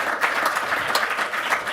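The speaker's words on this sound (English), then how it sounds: "If you could give him a round of applause." An audience at a cleantech summit applauds as Jigar Shah is called back to the stage. The clapping is brief, with uneven bursts of hands, and lasts under two seconds with no talk.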